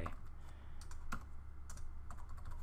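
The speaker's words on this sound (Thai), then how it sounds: "วิธีการเปลี่ยนแปลงค่านี้คือพิมพ์คำสั่ง echo ครับแล้วใส่ค่าใหม่ลงไป" Keys clatter on a computer keyboard as a Linux-style echo command is typed into a terminal, giving a quick irregular run of clicks and taps, close and moderately loud over a steady low hum.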